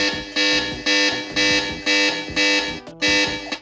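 A loud, harsh alarm on an 8849 Tank 4 smartphone blares in repeated pulsing bursts, about six in a row, close by with no talking.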